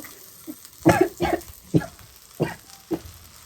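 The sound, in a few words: garlic with skins frying in a pan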